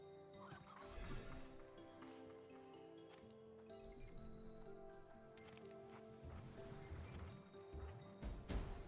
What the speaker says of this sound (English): Here's some more of those hens.